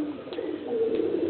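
A racing pigeon coos steadily at close range, a soft continuous low murmur running through the whole moment with no other sounds around it.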